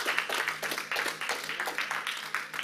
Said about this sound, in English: Give God another shout, hand clap of praise